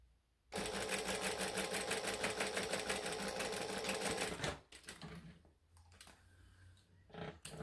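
A sewing machine stitches a laptop sleeve in one loud, steady, fast run of about four seconds, then stops and gives way to quieter handling noises.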